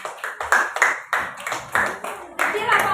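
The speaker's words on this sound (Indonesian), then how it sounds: "tepuk tangan buat kelompok" A classroom of students claps for a presenting group, a few sharp separate claps in an uneven rhythm, close and clear, with talk between the bursts.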